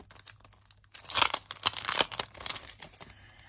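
A plastic packet holding two sheets of mini icon stickers crinkles and tears as it is pulled open, a quiet pause giving way to a dense burst of close, bright rustling that tapers into softer crackles.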